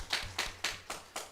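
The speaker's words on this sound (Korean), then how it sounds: "하나님께 영광 박수를 드리겠습니다." Church congregation clapping at a Sunday Thanksgiving service, heard as five evenly spaced, loud claps in a steady rhythm.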